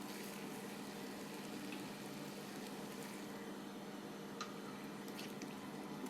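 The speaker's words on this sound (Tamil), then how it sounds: "இப்போ நல்லா கிளறிக்கலாம்." Dried anchovy curry being stirred in a pan, heard as a quiet, continuous wet squishing and bubbling close by, with no talk.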